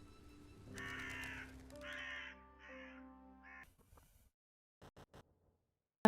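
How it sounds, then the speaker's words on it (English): A raven caws in the narrative adventure game The Raven, several loud harsh calls in a row over a low hum, followed by a pause and a few faint clicks. "he is interrupted by the visit of a majestic raven"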